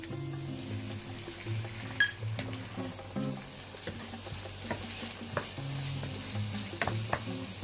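Shrimp sautéing in a hot pan for seafood yakisoba, a steady close sizzle with repeated stirring scrapes and a few clinks of utensil on metal, no voices.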